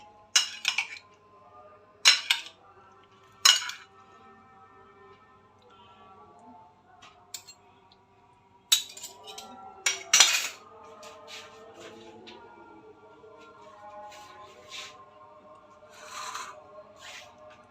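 Mango salad being tossed with lemon juice in a bowl, bursts of clinking utensil taps and soft mixing rustles separated by quieter pauses, close and fairly faint.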